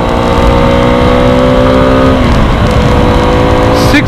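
A 2022 Suzuki V-Strom 250 SX, a six-speed motorcycle, sounds its engine loudly and steadily on the road. The pitch climbs through a gear, drops as the rider shifts near the midpoint, then rises again, with rushing wind behind it throughout.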